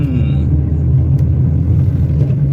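A car engine with a P0300 random-misfire fault runs at a steady idle, giving a loud, continuous low droning rumble.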